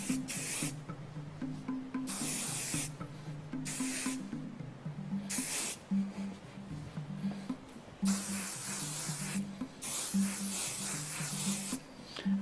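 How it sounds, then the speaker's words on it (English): Hairspray from an aerosol can sprays onto hair in repeated long hissing bursts with short pauses, close and steady, with a low hum underneath and no voices. "Now take your can of trusty hairspray and lightly spray"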